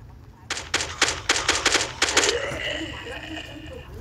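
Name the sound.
gunfire in a crafting and building video game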